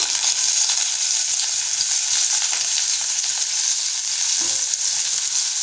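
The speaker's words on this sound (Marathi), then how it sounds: "आपण इथे 1 चमचा तेल गरम करून घेतलं आहे। त्यामध्ये बारीक चिरलेला कांदा घालूया।" Finely chopped onion going into hot oil, a steady broadband sizzle of frying that holds constant throughout with a brief stir near the end and no voices.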